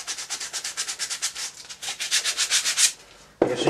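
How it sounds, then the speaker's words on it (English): A wooden casting pattern is rubbed with sandpaper in quick, rhythmic back-and-forth strokes, close and fairly loud, pausing briefly before one final scrape, with no talking. "Nothing special about sanding, it just takes time, that's all."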